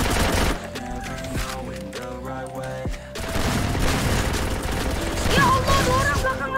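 Gunfire in a ninja-themed video game crackles in sustained rapid bursts, with game music and effects layered underneath. The shooting grows denser and louder in the second half.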